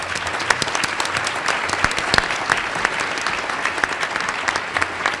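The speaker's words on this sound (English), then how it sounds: "Let's give a round of applause for our wonderful panel today." A town hall forum audience gives a steady round of applause for the panel, many hands clapping evenly with a few sharper claps standing out, continuous and unbroken.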